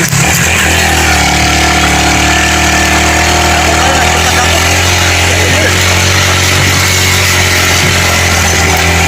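A motorcycle engine runs loud and close with a steady, harsh drone that does not let up, while voices can be heard beneath it.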